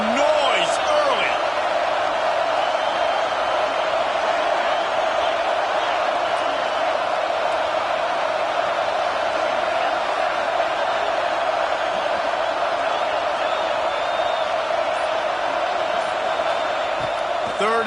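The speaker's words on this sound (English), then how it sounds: "This crowd bringing the energy and noise early." Steady roar of a stadium crowd in the College Football 26 video game, a loud, unbroken wash of noise with occasional whoops, running under game commentary throughout.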